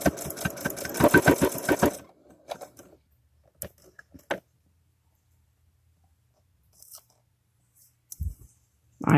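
A sewing machine stitches a dollhouse curtain with a fast, close rattling run for about two seconds, then stops, followed by scattered quiet clicks and handling noises, with a louder thump at the end.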